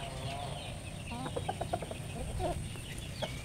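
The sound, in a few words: heritage chickens clucking in backyard farm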